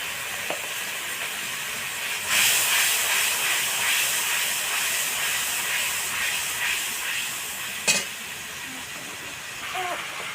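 Hot oil with whole and chopped ginger sizzling as turmeric powder goes in, a steady close hiss that swells suddenly and keeps frying with small crackles.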